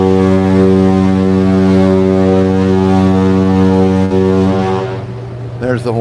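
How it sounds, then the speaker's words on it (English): NCL Aqua cruise ship foghorn blasting in thick fog, a loud deep sustained horn tone holding steady for several seconds before cutting off, with faint voices and outdoor noise after it stops. "Horn goes off every couple of minutes."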